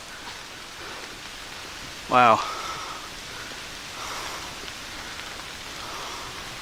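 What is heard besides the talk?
heavy rain falling on a mountain hike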